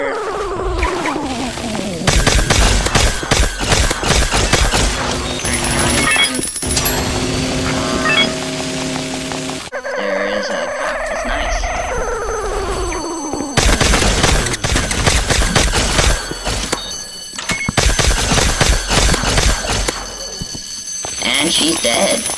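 Rapid automatic gunfire from the Regen gun in the Roblox-style game Mad City, loud dense bursts of shots running nearly throughout, mixed with game music and effects, while a voice talks over it.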